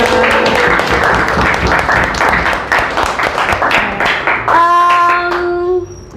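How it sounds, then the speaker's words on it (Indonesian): Children in a classroom clap their hands together, loud rhythmic clapping close by that fades near the end as a voice rises above it. "Mari kita tepuk tangan untuk kita semua."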